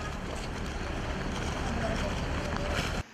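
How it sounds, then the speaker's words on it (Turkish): Storm wind and waves batter a coastal promenade in Turkey where waves tore concrete blocks loose, a dense, steady roar of wind buffeting the microphone over surging water, fairly loud and continuous until it cuts off near the end. "Dalgalar sahildeki beton blokları yerinden söktü."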